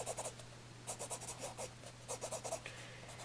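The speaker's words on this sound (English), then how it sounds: "Guess I'll go with a Stabilo pencil then." A Stabilo pencil scratches across an art journal page in quick, sketchy strokes, soft and close, coming in short bursts separated by brief pauses.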